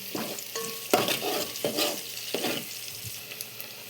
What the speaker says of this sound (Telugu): ఈ ఉల్లిపాయలు కాస్త వేగిన తర్వాత ఇందులోకి మనం కరివేపాకు వేసుకుందాం.